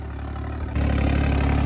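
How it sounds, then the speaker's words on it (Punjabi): Diesel engine of a Holland tractor modified by Jagga Boss idles loudly and steadily, then steps up to a heavier, louder rumble partway through, close and continuous. "ਇਹ ਮਿੱਤਰੋ ਜੱਗੇ ਬਾਸ ਤੋਂ ਤਿਆਰ ਹੋਇਆ ਹੋਇਆ ਬਈ ਟਰੈਕਟਰ"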